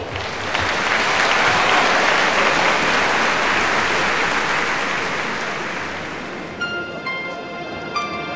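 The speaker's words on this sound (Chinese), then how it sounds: "让我们掌声有请所有的表演者上台" A concert audience applauds as all the performers are invited onto the stage, a loud, dense wash of clapping that swells and holds before thinning out as a musical tone begins at the end.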